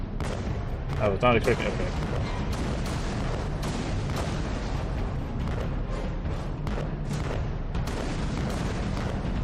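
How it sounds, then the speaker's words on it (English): Cannon fire in Alice: Madness Returns during a ship stage, with repeated booming shots and blasts over a dense rumbling game mix, while a player talks briefly over it. "Avoid shipwreck sharks, cannon fire, and mines."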